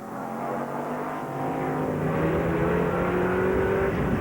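A big Corvette race car from the 1995 SCCA World Challenge at the Trois-Rivieres street circuit gives a loud, steady engine drone whose pitch climbs as it accelerates, with no voices.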